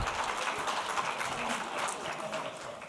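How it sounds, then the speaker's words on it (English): At a mangrove science talk at a marine research and rescue center, an audience gives a round of applause, a steady, moderately loud patter of many hands lasting a few seconds. "Round of a clap."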